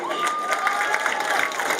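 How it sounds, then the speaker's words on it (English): Crowd at a high school football game cheering and applauding for the seniors on senior night, a dense burst of claps and shouts with a whistle-like tone through it, brief and close. "Give these seniors another round of applause for all their hard work and dedication."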